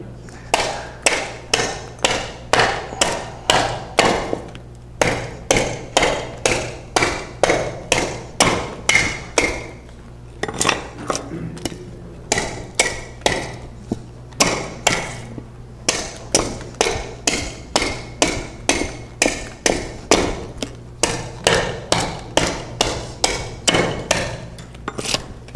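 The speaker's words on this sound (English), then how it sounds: "if you don't have a bandsaw, a hatchet is actually really quick and pretty easy." A hatchet chops a wooden decoy blank in rapid, sharp repeated strikes, dozens of crisp thwacks in quick rhythmic bursts separated by brief pauses, close and clear with no talk.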